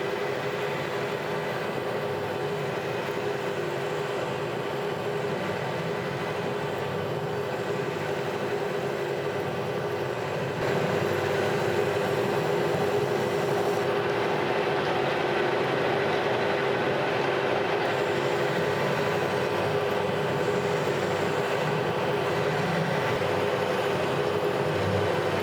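A metal lathe faces a motor coupling bushing, giving a steady, continuous machining whir and hum that grows slightly louder partway through, with no talking.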